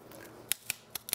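Four sharp pruning-shear snips cut a fig cutting close to a node, each crisp click evenly spaced over about a second, near and distinct against a quiet background.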